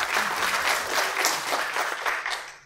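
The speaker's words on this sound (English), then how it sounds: "Big round of applause for both of them" Audience applause following an Ignite talk session on emergency care, a steady wash of many hands clapping at moderate volume for nearly three seconds before tapering off at the end, with no talking over it.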